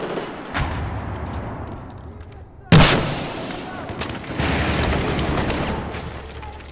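Gunfire in the shooter game Battlefield 4: a sharp, loud single shot cracks out mid-clip amid a busy din of battle noise, with other muffled reports before and a dense rumble after.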